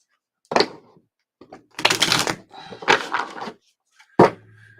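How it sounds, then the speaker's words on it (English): Several short bursts of card shuffling, riffling and slapping close by, separated by brief pauses, with a sharp final snap. "Got more shuffles."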